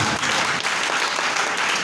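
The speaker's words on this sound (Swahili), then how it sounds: "Pigia Yesu makofi mazuri" A church congregation applauds Jesus during a sermon, a dense, lively burst of many hands clapping together close by, unbroken across the whole moment.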